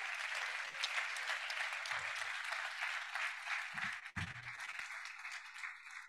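A conference audience at a digital health day closing ceremony applauds the named speakers, with steady, bright clapping from many hands filling the room and a few low thumps and a short dip near the end.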